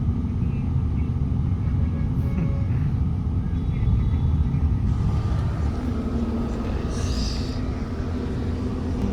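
Road traffic rumbles along a Philippine street, a steady low roar of passing vehicles that carries on without pause, with faint voices now and then.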